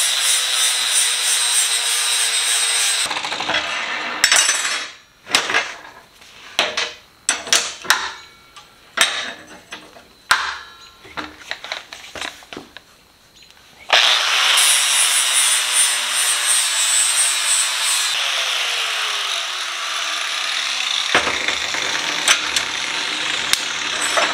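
A flap disc on an angle grinder works down welds on metal, starting and stopping in a long loud continuous grind, then a stretch of short choppy bursts and scrapes, then a long steady grind again that winds down near the end.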